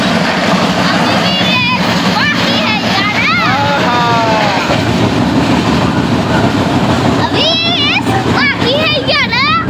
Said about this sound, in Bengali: এবার আমাদের ট্রেন আগে গোপাল, আমাদেরটা আগে যাচ্ছে।